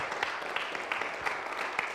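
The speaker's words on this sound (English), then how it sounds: "another round of applause" A room full of people clapping steadily, heard from some distance and fairly faint.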